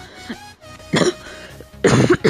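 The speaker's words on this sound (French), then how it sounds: "ça va pas le faire si je commence à tousser en vidéo" Two harsh coughs ring out close by, the second louder, over a faint steady background hum.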